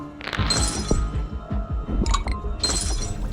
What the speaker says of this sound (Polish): Rozbijam im te fiolki z lekami